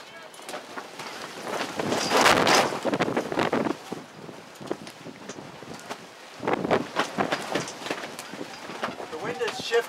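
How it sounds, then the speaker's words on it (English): Gusty outdoor wind buffeting the microphone at a windy campsite, loud rumbling bursts rising and falling over several seconds with a person talking throughout. "The wind has shifted a little bit here."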